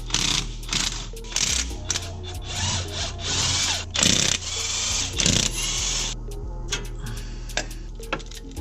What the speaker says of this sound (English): The ones I can get to with an impact, I will impact off.